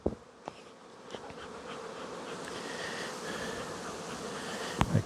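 Honey bees buzz in a dense steady hum around an open hive box during a beekeeping inspection, close and continuous, with a few faint knocks and clicks of handling.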